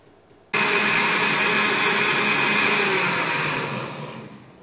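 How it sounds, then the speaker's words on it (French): Countertop blender whirring steadily as it purées cream, hot milk and Tarbais beans for a dessert, starting abruptly at full power, loud and continuous, then tapering slightly near the end. "Incorporer les haricots tarbés et nous allons maintenant mixer cette préparation"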